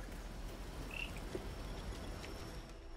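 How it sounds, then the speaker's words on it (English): Frog croaking in the video game Hitman 3, a short, soft call sounding once among steady ambient outdoor game noise, with no speech. "Hey, there's a frog."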